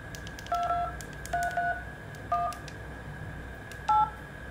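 Keypad tones from an LG V60 Sprint smartphone, four short DTMF beeps pressed at uneven intervals, clear and close over a quiet background with no talking.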